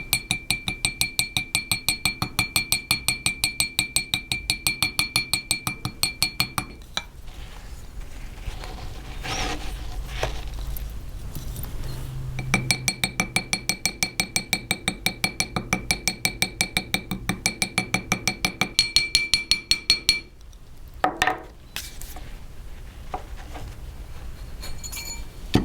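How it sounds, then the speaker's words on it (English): A small riveting hammer taps a metal rivet on a jewelry ring rapidly and steadily in long even runs, pausing briefly midway before resuming the quick rhythmic strikes. "Come in with your riveting hammer again"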